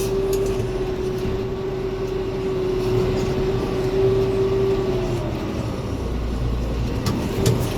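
Mahindra 6075 tractor fitted with a rock grapple works through a forest, its engine a steady, loud drone with a sustained low hum that shifts slightly toward the end, with no talking.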